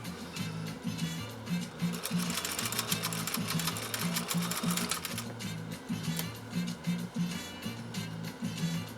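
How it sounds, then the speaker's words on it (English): A 1930s GE Model A sewing machine stitching, going from its longest stitch to its shortest: a close, rapid mechanical clatter with a regular chugging rhythm that grows busier in the middle stretch before easing back. "Longest stitch to shortest stitch."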